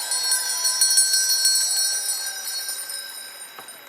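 Several bells rung in a convention hall to honour award-winning departments at an American Legion Auxiliary national convention. The bright, shimmering ringing is sustained and moderately loud throughout, with no talk.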